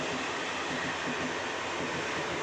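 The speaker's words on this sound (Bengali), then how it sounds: "ট্রেন যাচ্ছে।" A train passes outside a window, its broad steady rumble and rattle filling the scene without pause, fairly close and continuous.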